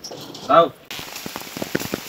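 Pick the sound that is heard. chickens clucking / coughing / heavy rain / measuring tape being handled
heavy rain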